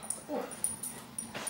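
A dog whimpers and yips in short high bursts, faint and intermittent, outdoors at a campsite beside a camper van, with low background noise.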